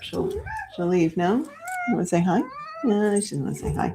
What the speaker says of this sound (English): So if you hear a cat meowing,